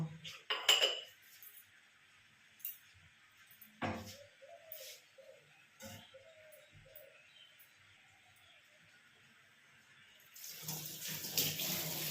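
Soaked nighties are washed by hand under a running tap in a home. Faint, intermittent splashes and clinks are followed by a louder gush of flowing water at the end.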